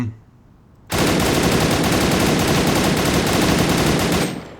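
A G36 Fresco rifle in the online shooter A.V.A fires a long, unbroken automatic burst of rapid, loud cracks for about three and a half seconds after a brief quiet moment, then stops abruptly.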